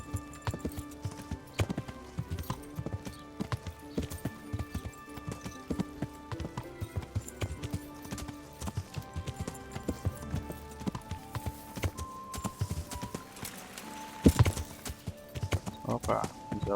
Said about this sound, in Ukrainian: Кобилка старенька лише мощна.